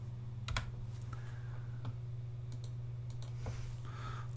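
Close computer keyboard typing with shortcut keys gives scattered, sharp key clicks and taps spaced irregularly over a low steady hum.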